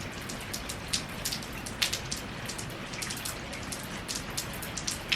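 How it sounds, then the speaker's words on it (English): Rain dripping outdoors near a neighbour's house, a steady patter of drops with sharper individual drips landing irregularly close by, alone without talk. "This rain over here, this is a drip."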